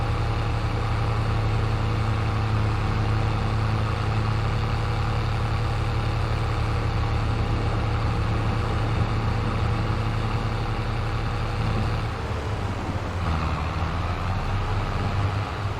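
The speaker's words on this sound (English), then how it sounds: "God, this tractor's so freaking loud." A tractor engine in a farming video game drones loud and steady at idle, a constant low rumble that shifts slightly near the end, with no talking.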